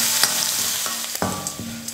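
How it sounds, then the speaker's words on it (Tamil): Finely chopped large onion sautéing in a pan for greens stir-fry, with a steady close sizzle of frying and several sharp scrapes and clinks of a spoon stirring against the pan. "ஒரு 2 நிமிஷம் வெங்காயத்தை நல்லா வதக்கிக்கலாம்."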